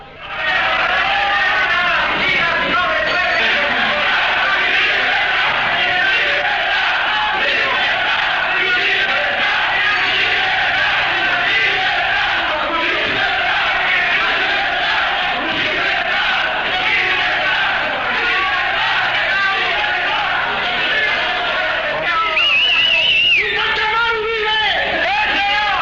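Crowd outside a prison shouting and chanting in unison in a show of solidarity, loud continuous massed voices throughout with no break.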